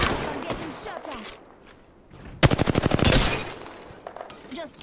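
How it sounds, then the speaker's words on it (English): Rapid automatic gunfire from Apex Legends erupts midway as a loud, dense burst of repeated shots, following quieter game ambience with faint voices and footsteps. "I'm getting shot at."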